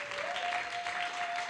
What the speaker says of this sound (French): est-ce qu'on peut applaudir ceux qui sont en ligne?